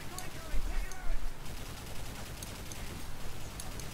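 A mounted gun on a technical, standing in for a minigun, fires rapid bursts in Modern Warfare 3, loud close rattling shots over a busy battlefield background with distant pops.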